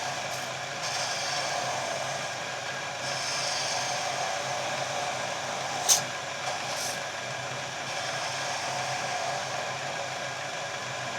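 A spindle gouge works the corner of a scrap-hardwood file handle on a lathe, giving a steady, continuous hiss of cutting over the motor's hum, with one brief sharp tick near the middle.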